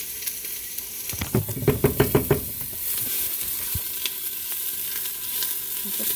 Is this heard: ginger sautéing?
yes